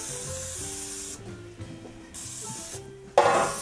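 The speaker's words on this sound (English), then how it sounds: "I'm going to spray the pan with some vegetable oil" Vegetable cooking spray hisses onto a baking pan in a couple of broad, airy bursts, close and fairly loud against background music.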